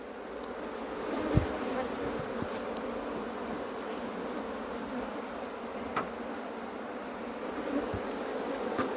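Honeybees buzz in a dense continuous hum around an open hive, close and steady, with a few soft knocks and handling sounds scattered through.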